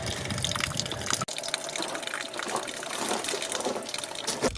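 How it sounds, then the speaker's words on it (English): A small waterfall at a shrine in Noshki, Balochistan, with little water flowing, gives a steady close gushing trickle, continuous with a brief break near the start. "Hey, we found the waterfall."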